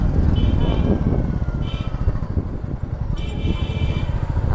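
A vehicle horn honks a few short times on a road near the Dahanu coast. The toots sit over steady traffic and engine rumble from a Royal Enfield Meteor 350 ride.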